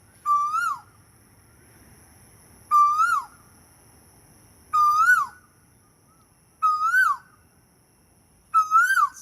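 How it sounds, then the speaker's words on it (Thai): An Asian koel calls by a lotus pond in Bangkok. Five loud, clear, rising whistled calls come one at a time, about two seconds apart, with quiet background between them. "กาเว้าฮ้อง"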